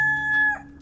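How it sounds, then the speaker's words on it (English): A rooster crows once, a bright sustained call that breaks off partway through, with soft farmyard hum underneath. "Sounds of chickens?"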